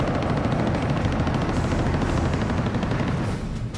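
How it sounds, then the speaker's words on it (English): Cannon fire from MiG-17 jets strafing troops rattles as a dense, continuous burst of rapid shots with a roaring jet wash, loud and sustained throughout. "iora Rome, the junior officer in the flight, has spotted 2 MiG-17s firing on Israeli troops."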